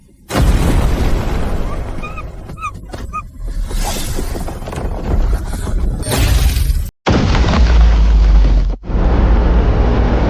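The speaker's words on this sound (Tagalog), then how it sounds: "Pumuputok na ang harang." A magical barrier bursting in a shattering explosion, loud sustained crashing and rumbling roar that cuts off abruptly, followed by another heavy booming surge.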